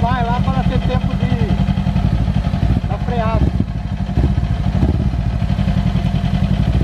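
A Kawasaki Ninja motorcycle engine runs loudly and close by, its note rising in revs in steady, buzzing sweeps while people talk over it.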